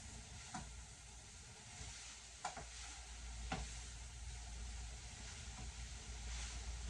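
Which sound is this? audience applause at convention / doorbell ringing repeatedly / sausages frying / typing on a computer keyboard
sausages frying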